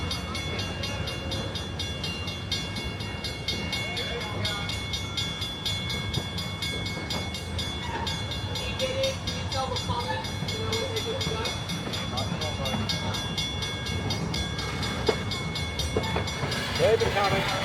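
Steam locomotive 8A of the Puffing Billy railway pushes its carriages back into a station platform, with a steady low rumble of rolling wagons, rail clanks and a few sharper knocks toward the end.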